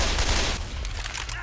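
Rapid gunfire bursts from the zombie shooter Left 4 Dead 2, played with a Resident Evil mod, loud and dense throughout with overlapping shots and a steady roar.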